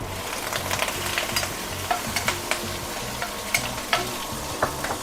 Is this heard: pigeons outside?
no